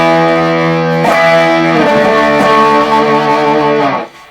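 Electric guitar through a Dunlop Berzerker Overdrive pedal plays sustained chords with a gritty overdriven tone, loud and close, with a couple of strums before ringing out and cutting off.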